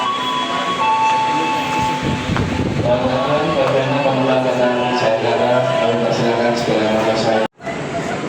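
The KA Jayakarta train bound for Pasar Senen rumbles at a station platform, a loud rolling clatter with tonal squeals, while a person talks over it.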